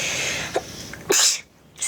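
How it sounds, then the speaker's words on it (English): One sharp sneeze lands close to the microphone in a quiet indoor room, with a soft intake of breath before it and a brief breathy aftersound. "Sorry, I just sneezed."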